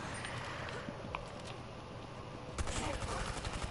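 Rapid gunfire from a Rainbow Six Extraction match crackles in dense bursts against a steady noisy game backdrop, growing louder and busier after a few seconds, with no clear speech over it.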